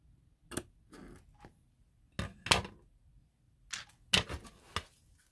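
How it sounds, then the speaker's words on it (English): A small tube being cut for an HO-scale model chain link fence makes a few sharp, quiet clicks and snips in irregular bursts over a near-silent background. "Now I'm going to cut the tube over here."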